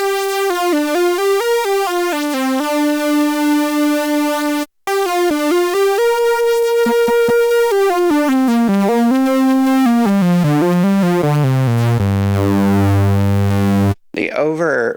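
A Minimoog Model D synthesizer (2022 reissue) plays a bright, buzzy overdriven bass line, the notes sliding and stepping lower, with a short gap midway and a brief break near the end.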